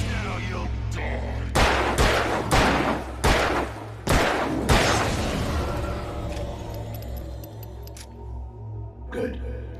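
Gunshots in the video game Alan Wake Remastered: about six loud, sharp shots fired at an uneven pace over a low steady drone. After the shots a quieter ringing tail trails off.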